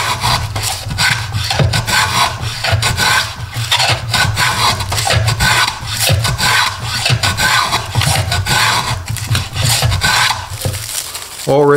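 A Stanley hand plane cuts a rabbet in wood, loud rhythmic rasping strokes repeating steadily, each pass shearing a shaving close up.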